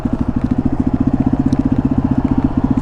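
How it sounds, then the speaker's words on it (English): A 1993 Yamaha XT225 single-cylinder trail bike runs off road, its engine thumping in a fast, even rhythm, loud and close, with no talk over it. "This is the Yamaha XT225 from 1993."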